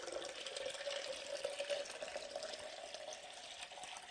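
A long pour of water into a glass gives a faint, steady stream with a rising liquid tone, continuous and fairly distant for a few seconds.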